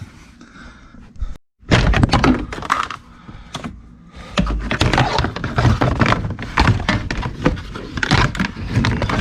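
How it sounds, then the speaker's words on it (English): A plastic panel is pried off the dashboard of a 2014-2015 Nissan Rogue, a burst of loud cracks, thunks and rattling clicks that carries on in dense irregular clatter after a brief pause. "I gotta pull this plastic panel off."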